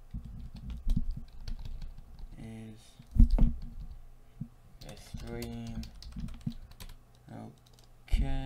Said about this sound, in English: Don't know why I'm typing it